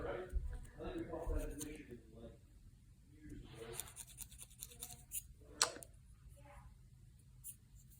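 Knife scraping the center spine of a reed in a reed repair shop, a soft dry rasping in short strokes, close and quiet, with a few brighter scratches, while a person talks over it.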